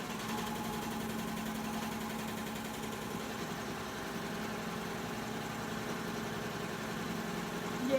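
Babylock serger running a wave stitch on a single layer of fabric, a steady, even mechanical hum and rapid stitching drone that holds at constant volume for the whole stretch, close and alone without talk.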